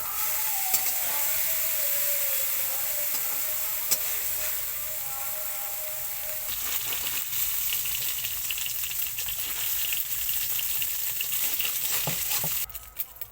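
Turmeric-spiced ingredients sizzle steadily in hot oil in a Bengali home kitchen, a continuous bright crackle of frying with occasional stirring clicks, close and alone without talk.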